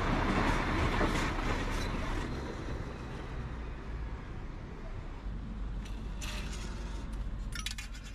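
A metro train in Mauritius rumbles steadily along the track, loud at first and then settling into a constant hum with faint metallic clinks.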